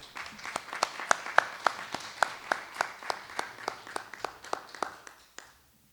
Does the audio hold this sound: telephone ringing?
no